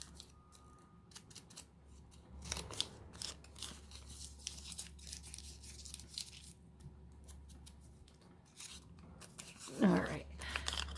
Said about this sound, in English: I think I'll crumple it a little bit.